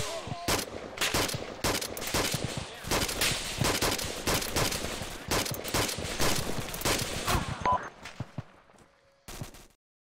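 Platoon gunfire during a live training reaction-to-contact drill: dense, continuous bursts of rifle and machine-gun fire, loud and close with rapid overlapping cracks for about eight seconds, then tapering off to a few scattered shots.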